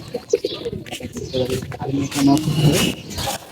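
Soft, throaty coos of young silver-necked and black-necked pigeons repeat close by, overlapping one another in a continuous murmuring chorus.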